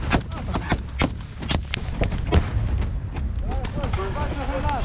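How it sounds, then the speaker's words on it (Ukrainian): Grenade and thermobaric blasts in front-line combat, with rapid loud bangs and gunfire cracking in quick succession while soldiers shout over the noise. "Давай гранату сюди. Перед нами прям. Давай термобар туди."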